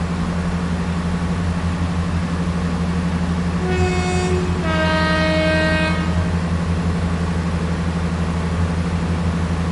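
A Class 166 diesel multiple unit in Train Sim World 5 drones steadily with an engine hum while its two-tone horn sounds in two close blasts mid-way, loud and near.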